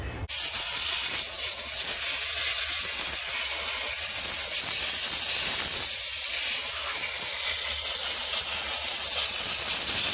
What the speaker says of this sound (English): I'm going to go ahead and put the steamer on it